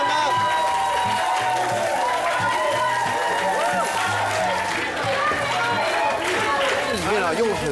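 A crowd cheering and shouting for cooking contestants at a cooking competition, loud and continuous with scattered claps, voices talking over the din throughout.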